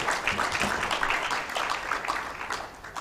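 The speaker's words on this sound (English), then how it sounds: "Let's give her another round of applause." Applause from delegates at a national HIV/AIDS scientific meeting rolls on steadily for a few seconds, a soft, continuous patter of many hands with no talk over it.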